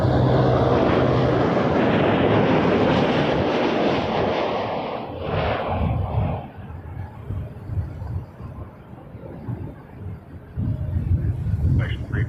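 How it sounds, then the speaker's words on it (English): A Boeing 787 Dreamliner departs Toronto Pearson Airport, its jet roar loud and broad at first, then easing to a lower rumble, heard alongside air traffic control radio talk. "And then we'll get this Dreamliner departure."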